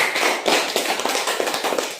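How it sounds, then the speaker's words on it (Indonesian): Students in a classroom clap their hands in a short, continuous, lively patter of overlapping claps, heard close with no speech. "Ya, tepuk tangan dulu."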